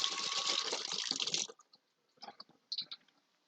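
A kitchen tap gushes steadily for about a second and a half while hands are washed during sesame chicken cooking, then cuts off, leaving wet rubbing and splashing in short bursts.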